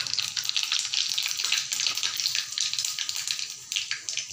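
Mustard seeds and cumin sizzling in hot oil, a bright, crackling hiss with small popping spurts that keeps up continuously and fairly close.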